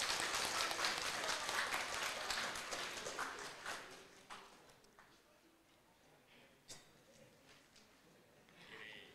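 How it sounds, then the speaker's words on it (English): Lecture hall audience claps during a souvenir presentation for a professor at a public lecture on gender mainstreaming, applause loud at first then thinning to a few scattered claps and fading out. "Please give an applause"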